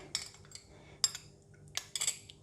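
A spoon clinks against a bowl while stirring tapioca flour into water, giving a few quiet, separate metallic taps spaced over a couple of seconds with near silence between them.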